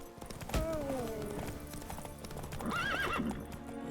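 Roach the horse in The Witcher 3, with hooves clip-clopping at a gallop and two drawn-out neighs, one early and one louder later, over game background sound; no talking.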